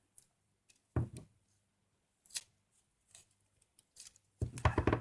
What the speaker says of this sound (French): je vais couper un petit morceau de masking tape et je vais enrouler